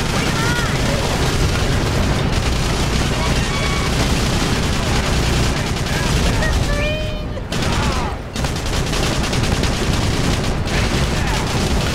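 Battle noise from the GameCube war game Battalion Wars: booming blasts from detonating charges mixed with rapid gunfire, loud and continuous, with a brief lull near the end and voices speaking over the fighting.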